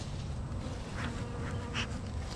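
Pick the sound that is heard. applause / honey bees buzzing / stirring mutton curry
honey bees buzzing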